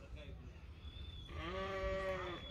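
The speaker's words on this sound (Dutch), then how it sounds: "Schapen op de achtergrond." Sheep bleat in the background on a rural Dutch campsite with a self-service ice cream stand, sounding as a wavering, harmonic cry that swells late in the moment over a steady outdoor hum.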